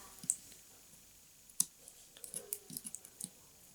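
Quiet close snips and small clicks as sharp scissors cut fishing thread while tying a sabiki-style assist hook, a few sharp cuts among soft fiddling sounds, with no talking.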